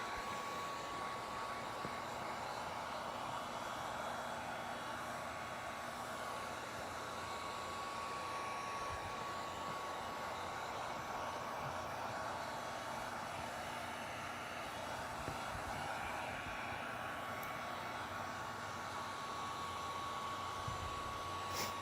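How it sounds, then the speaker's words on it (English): A heat gun blows hot air steadily during a ceramic windshield tint install, a constant loud broadband hiss with no break and no talking. "Does this heat gun have multiple settings?"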